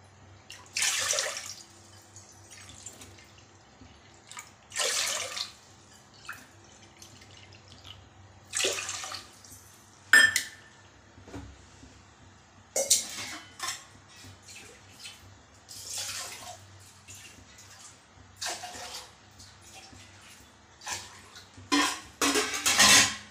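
Water poured cup by cup into a thick pot on a stove for sago, several separate splashing pours spaced a few seconds apart, with light clinks of the cup against the pot.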